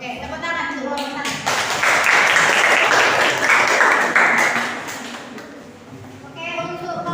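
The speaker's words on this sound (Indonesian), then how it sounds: "tepuk tangan untuk kelompok 1." Applause from a group after a classroom presentation fills most of the clip, with voices speaking before it starts and again as it dies away.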